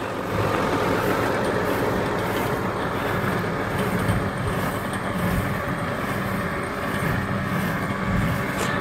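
A John Deere 6120R tractor approaches while baling horse hay, a steady, fairly loud engine drone with broad rumbling noise that holds evenly throughout, with no speech.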